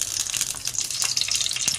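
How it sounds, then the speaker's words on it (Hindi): Ghee hits a hot pan in a brief gushing splash that turns into a bright, close sizzle, with no voices. "अब हम इसमें घी डालेंगे"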